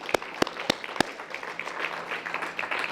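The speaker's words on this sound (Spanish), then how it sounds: "dale un fuerte aplauso al Señor" Church congregation applauding, with a few sharp, loud claps standing out at the start before settling into steady, dense clapping throughout.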